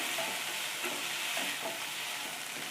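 Cauliflower pieces sauté in a pan over softened onions for an aloo gobi masala fry, giving a soft, even sizzle with faint stirring scrapes, quiet and continuous with no talking.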